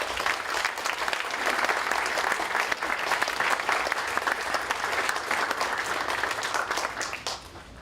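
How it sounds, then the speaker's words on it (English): Sustained applause from an audience at a 2023 baccalaureate ceremony welcoming the senior class student speaker, dense steady clapping filling the hall before tapering off near the end. "Please give a round of applause for Oliver Butin."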